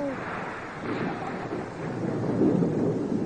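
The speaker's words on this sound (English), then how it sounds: "You know, Minus, I'm not afraid of the thunder." Thunder rolls low and steady through a storm at sea, a broad rumbling wash with a faint rain-like hiss on top and no voices.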